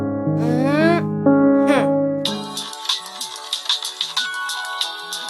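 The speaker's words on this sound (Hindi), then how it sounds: "रोशन सर का फोन है।" A melodic phone ringtone chimes in a rising sequence of tones, loud and close, then gives way to busier sounds in the second half.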